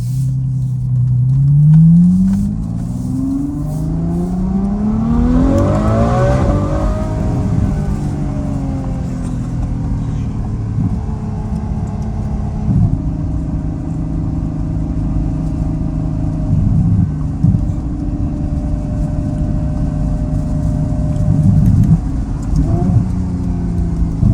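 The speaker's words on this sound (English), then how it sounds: "but this car definitely burbles." A Ferrari F12 Berlinetta V12 fitted with an FI exhaust revs hard and sweeps up in pitch, then settles into a loud, deep idle with uneven burbles and occasional blips, heard close and alone.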